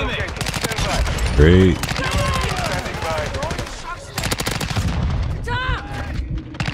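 Rapid automatic gunfire from the video game Call of Duty MW2 rattles in dense, fast bursts with a heavy boom partway through, while a player speaks briefly over the shooting.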